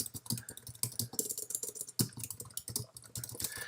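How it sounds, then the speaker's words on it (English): Keys tapped on a computer keyboard in quick irregular bursts, close and fairly quiet, with brief pauses between runs of clicks. "you can type some things in here"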